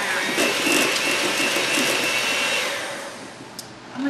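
An electric mixer whirs through brown sugar cinnamon loaf batter with a steady motor drone that eases off in the last second or so.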